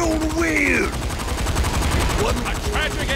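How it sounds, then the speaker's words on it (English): Enemies fire weapons in the video game Saints Row IV, giving rapid bursts of gunfire mixed with other game effects, with a person talking over the action. "they're shooting stuff at us now"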